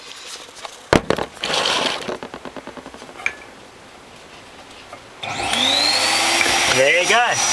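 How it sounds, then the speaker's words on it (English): A 600 watt vacuum cleaner switches on partway through and runs steadily to the end, loud and close, after earlier clattering and handling noises. "my test load is a 600 watt vacuum cleaner"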